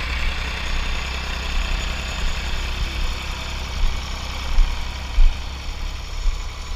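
A tractor engine idles on a farm during soil prep and sweet corn planting, a steady low rumble with light vibration and a few brief surges, no talk over it.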